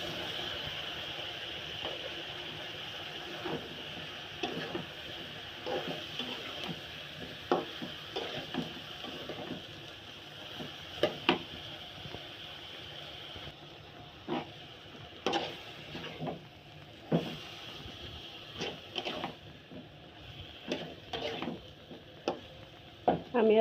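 Chopped bottle gourd cooking in a pan for a curry, giving a soft, low sizzle broken by frequent clattering stirs and utensil knocks, fairly quiet throughout.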